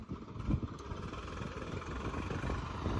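A Swaraj 855 tractor engine runs steadily in a field, a low, rumbling mid-pitched drone that holds fairly even throughout, with no talk over it.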